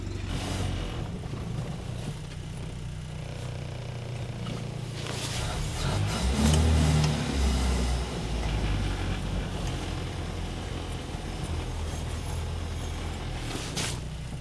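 A cold 1974 Land Rover Series engine idles and labors as the vehicle is turned around outdoors, a steady low rumble that swells in the middle with some rattling and mechanical clunks, no talk.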